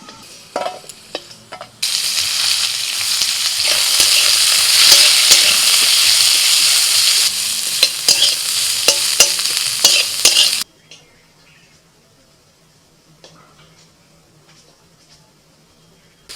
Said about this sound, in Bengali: ভর্তা বানানোর জন্য একটু গোটা রসুন ভেজে নিচ্ছি